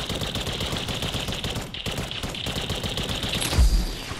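Video game gunfire in a rapid series of sharp shots, fairly close and moderately loud, ending with a louder heavy thump.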